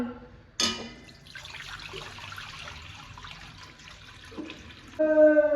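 Tap water running and splashing as coriander leaves are rinsed, a continuous trickling wash with a sharp knock near the start and a louder gush at the end.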